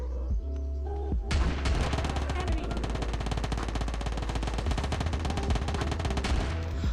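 Shotgun gunfire in PUBG Mobile Lite, a dense, loud barrage of rapid shots and booms that starts abruptly and continues without pause, under game background sound.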